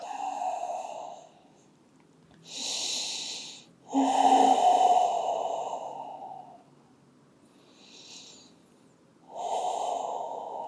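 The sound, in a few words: breathing during a yoga inversion pose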